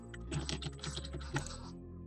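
Keys on a computer keyboard are tapped in a quick, uneven run of soft clicks for about two seconds, close and fairly quiet.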